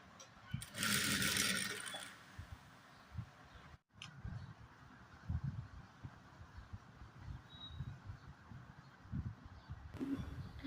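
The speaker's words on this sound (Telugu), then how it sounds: "ఇదిగోండి బ్లౌజ్ అయితే ఇంకొకటి కుడుతున్నాను." A sewing machine stitches a blouse, its steady mechanical whir running loudly for a couple of seconds near the start, then fainter stitching and handling noises continue through the rest.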